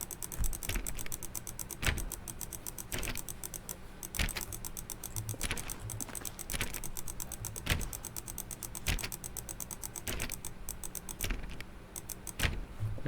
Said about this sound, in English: what if I just keep clicking?